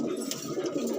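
Desi pigeon cooing in a low, steady murmur at close range, with a continuous soft throaty drone and no clear separate calls, set among pigeons offered for sale.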